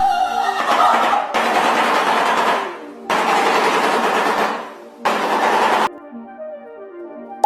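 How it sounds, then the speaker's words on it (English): A shoebill stork makes loud, harsh, rattling bursts, probably bill clattering, in a series of long, dense blasts separated by short gaps, with a faint tonal drone underneath. "Number 1. Shoebill stork."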